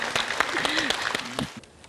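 Studio audience applause on a Vietnamese game show, a dense burst of many hands clapping at close range under a host's talk, fading out near the end.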